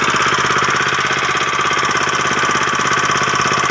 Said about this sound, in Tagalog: para ma-mix natin, gamit yung makina.